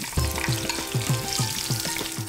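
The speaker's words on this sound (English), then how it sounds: "Sliced onion going in." Sliced onion hitting hot sunflower oil with cumin seeds, bay leaf and cinnamon stick, a loud close sizzle with rhythmic stirring scrapes repeating about twice a second.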